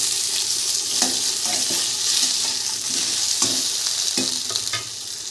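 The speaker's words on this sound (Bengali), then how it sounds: "কুলটা দিয়ে একটু নাড়াচাড়া করে নেব।" Ripe jujubes frying in a pan with dried chilli and five-spice tempering for a Bengali chutney, a steady loud sizzle with repeated scraping stirs at irregular intervals, no voices.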